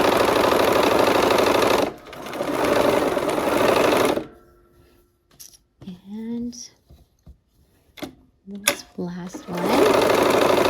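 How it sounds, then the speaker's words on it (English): A sewing machine stitches pieced units of a Christmas quilt block together in two steady runs, one at the start and one at the end, with a gap between where a person speaks briefly. "let's go ahead and sew these units together."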